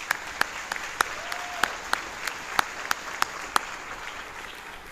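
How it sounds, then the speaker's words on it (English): A commencement crowd at Grayson College's spring 2023 graduation applauds, with crisp, sharp claps popping out at a quick, uneven pace over a softer background of steady clapping. "Give them a round of applause."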